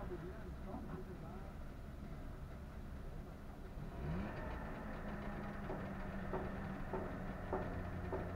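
A Trabant's two-stroke engine starts up and idles, a steady low chugging throb that becomes stronger and fuller partway through, running under people chatting nearby.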